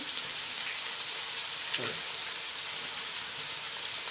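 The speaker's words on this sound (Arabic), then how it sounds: "قطعنا بصل حلقات ورشينا عليه شويه دقيق وشويه ملح ابيض، وهنحطه في الزيت يتحمر" Onion rings dusted with flour and white salt fry in hot oil, a continuous soft sizzle and crackle like light rain, with a short bubbling burst partway through.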